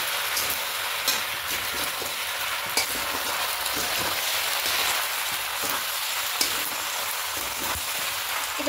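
Pasta and sauce stirred together in a frying pan, with a bright continuous sizzle, rhythmic scraping strokes and occasional sharp taps of the utensil against the pan, without any voices.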